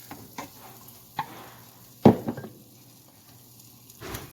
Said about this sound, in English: put in the chopped onion and garlic. And let that be sauteed for a while to add into the beef